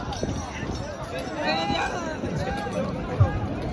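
Crowd hubbub at a rural bullock race gathering, a continuous murmur of many voices with shouts rising above it and a brief thump near the end, people talking nearby throughout.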